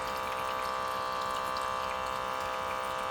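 A small pump in a Letpot 4-in-1 hydroponics system draws water from a bucket, giving a continuous, even hum with a faint watery trickle, steady and close throughout.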